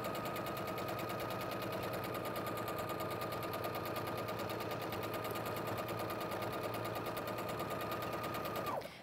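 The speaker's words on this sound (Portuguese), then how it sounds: "Já costuro novamente a outra lateral" A sewing machine runs continuously along the side seam of a cushion, a steady rapid needle rattle with a faint motor whine, stopping abruptly at the end.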